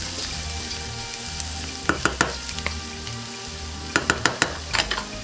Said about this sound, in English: caramelize the onion and the red pepper and the garlic